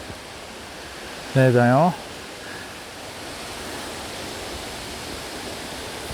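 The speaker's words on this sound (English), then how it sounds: "you can start to see the waterfalls coming into view now" Waterfalls in the Fairy Glen at Rosemarkie send a steady broadband rush that runs evenly through the whole stretch, with a brief spoken remark near the start.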